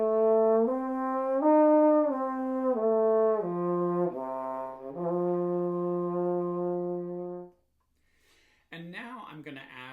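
A horn player slurs between natural harmonics on a single breath, sustained tones stepping up twice and then down once, clear and close with no accompaniment, followed by a brief pause and a short burst of higher, busier notes.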